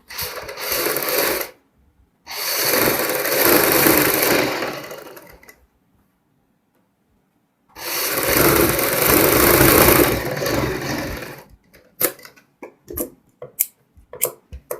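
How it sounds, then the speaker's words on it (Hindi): A sewing machine stitches the side seam of a kurti in two long, even runs of close, whirring mechanical hum, separated by a pause and followed by a series of short, sharp bursts as the stitching stops and starts. "ये मैंने एक साइड की सिलाई कंप्लीट की है"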